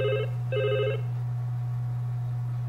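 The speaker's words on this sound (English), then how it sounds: "What's that noise? It's the phone!" A phone rings in the pizza restaurant of the video game Pizza Dude, two short electronic trills close together, followed by silence over a steady low hum.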